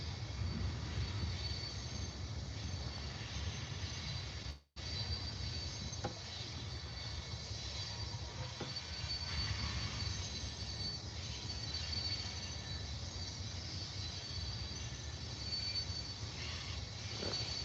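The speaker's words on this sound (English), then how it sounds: "That train going by." A train rolls past near the Missouri River, a steady low rumble of rail cars with faint wheel squeal, heard fairly quietly and continuously apart from one brief dropout.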